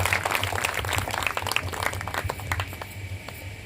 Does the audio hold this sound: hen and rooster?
no